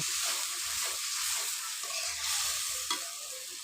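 Spices with turmeric, salt and chili frying in oil in a pan, a continuous hissing sizzle with soft scraping stirs underneath, close and steady.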